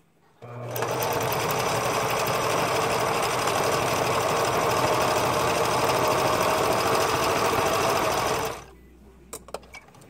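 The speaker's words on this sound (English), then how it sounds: "I do like to pause every several stitches just to make sure I'm still exactly where I need to be" A sewing machine stitches fabric along matched edges in one steady, loud continuous run of about eight seconds, then stops, followed by a few faint clicks.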